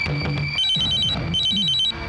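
A mobile phone ringtone plays loudly and continuously in repeating bursts of a bright electronic melody, with no voices.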